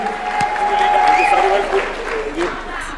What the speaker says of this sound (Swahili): Makofi kwa Leader of Majority